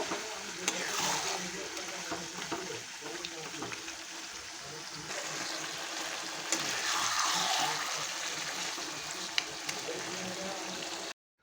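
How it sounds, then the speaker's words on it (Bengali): Mutton sautéing with spices in a pan sizzles continuously up close, with occasional clinks and scraping of stirring and a louder burst of hissing partway through. "মাংস দিয়ে আমি ভালো করে আগে মশলাটাকে খুব ভালো করে মাংসটাকে কষিয়ে নেব।"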